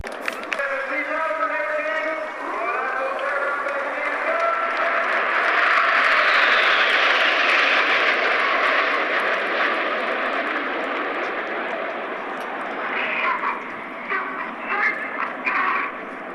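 Military jets, helicopters and troop carriers fly overhead in formation above a ceremony, a broad loud roar swelling and fading across a steady engine drone.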